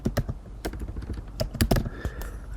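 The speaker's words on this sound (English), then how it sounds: "We're going to type in an email address here." Typing on a computer keyboard up close, an uneven patter of sharp key clicks with a few louder strikes, filling a short stretch with no voices.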